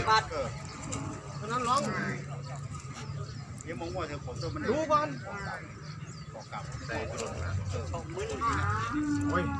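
Cattle at a Thai livestock market moo repeatedly, some calls near and some farther off, under steady talk from people in the crowd.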